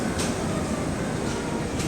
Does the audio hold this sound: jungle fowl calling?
no